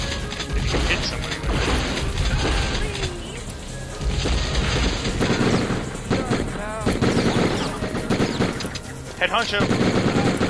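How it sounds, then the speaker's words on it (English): Rapid gunfire and a heavy blast from a rocket in the video game Die Hard Trilogy, loud and dense throughout, with brief shouted voices over the din. "That was a rocket."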